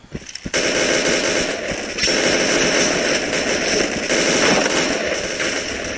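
Sustained automatic gunfire in a first-person shooter video game, a loud, dense burst that runs almost continuously after a brief lead-in of single shots.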